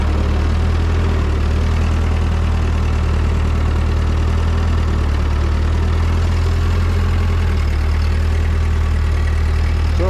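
An old Ford 9N or 2N tractor engine running in first gear, a loud, steady low-pitched chugging rumble that stays close and constant throughout, with no voices.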